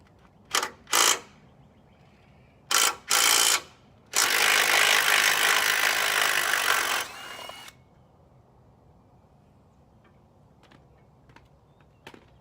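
A power tool works on a bolted bracket being removed from the frame of a 1978 Ford F-350: two short pairs of loud mechanical bursts, then a sustained run of about three seconds, followed by quiet, sparse ticks.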